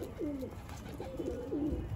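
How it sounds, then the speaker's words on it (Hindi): A pigeon coos softly nearby in three low, rolling calls, faint against light background hiss. "ये एक कबूतर बैठा है"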